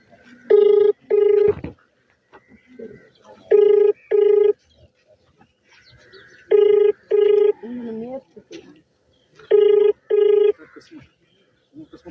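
A phone call rings out unanswered, with paired ringback tones repeating four times at a steady interval, and soft voices and faint background sounds in the gaps between rings.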